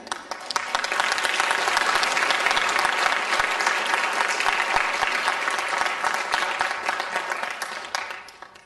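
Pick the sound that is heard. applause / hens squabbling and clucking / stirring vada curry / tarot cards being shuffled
applause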